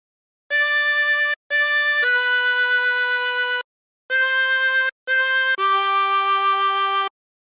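A chromatic harmonica plays a slow phrase of Silent Night as six clean sustained notes in two groups of three, the last note of each group held longer, with short pauses between.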